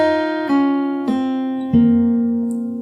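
Slow fingerstyle acoustic guitar phrase from a song, three sustained plucked notes struck about half a second apart and left ringing, close and clear with no voice.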